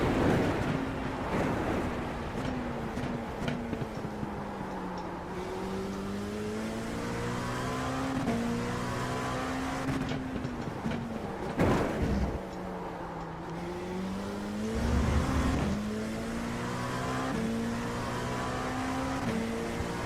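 An LMP2 prototype race car in the iRacing simulator drives laps. Its engine drones, rising and falling through repeated upshifts and downshifts, with sharp shift cracks at several points, and no one is speaking.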